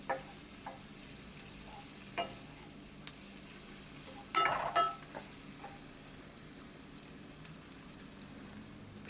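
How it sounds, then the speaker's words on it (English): Bell peppers sautéing in a hot pan for Jamaican roast fish, a faint soft crackle under occasional utensil clinks and a louder cluster of scraping stirs midway. "Now I'm going to add the peppers. Just saute them for it to release the flavors from them."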